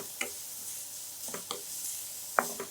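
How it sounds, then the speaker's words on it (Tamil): Carrot and cabbage sautéing in a pan for Chinese vegetable soup, heard as faint, sparse stirring clicks and scrapes with a light sizzle underneath, a few sharper taps standing out in a quiet kitchen. "இப்போ கேரட் லேசாக வதங்கிய பிறகு முட்டைக்கோஸ் சேர்த்துக்கிறேன்"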